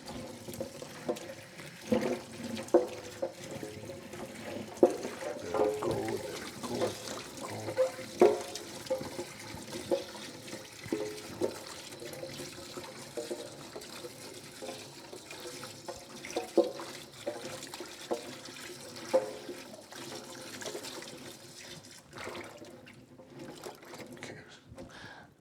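Tap water runs steadily in a kitchen while okra (mandandi) is being washed, a continuous splashing wash of moderate loudness with a voice talking over it.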